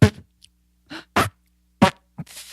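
A voice imitates a fart sound with lips pressed together, producing several short, loud buzzy bursts separated by brief pauses.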